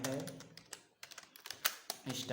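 Fingers tap out code on a computer keyboard in quick, irregular bursts of close clicks, while someone talks over the typing at the start and end.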